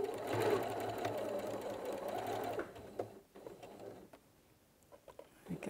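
Sewing machine stitching the edges of a fabric BBQ roll mat, a steady loud mechanical whirr for over two seconds that then stops, followed by quiet handling noises and short bursts.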